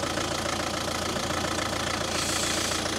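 A Vauxhall/Opel Zafira engine with a battery and charging fault runs at a steady idle, a close, loud, even rhythmic thrum with a slight knock and no voices.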